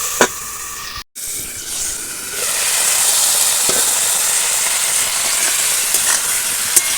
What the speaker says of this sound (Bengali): সবজিগুলো একটু হালকা হালকা ভাজা হয়ে গেছে